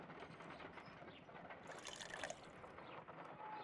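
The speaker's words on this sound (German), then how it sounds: "If I wish to shape the ice knife, then I need to pour water inside the mold." Water poured into an ice knife mould in the game Crimes and Punishment, a quiet continuous trickle and splash with a faint mechanical click partway through.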